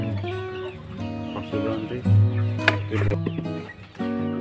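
Chickens clucking and crowing close by while being fed chopped papaya and rice bran, a busy overlapping chorus of calls in stops and starts.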